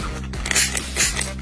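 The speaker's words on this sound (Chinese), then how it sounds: "现在是泡沫模式。" A kitchen degreaser cleaner is sprayed in foam mode, giving two short, close hissing bursts that are fairly loud, with no voices.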